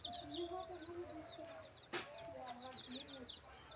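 Chickens cluck and chirp repeatedly at a moderate distance, soft and intermittent, with a brief knock or thud partway through and a voice faintly present.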